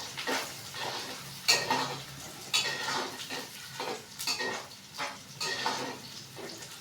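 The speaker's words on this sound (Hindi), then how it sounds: "प्याज को ना अच्छी तरह हम भून लेंगे।" Onions fry in a pan with a steady sizzle, broken by repeated scraping and stirring strokes of a utensil against the metal at a regular rhythm.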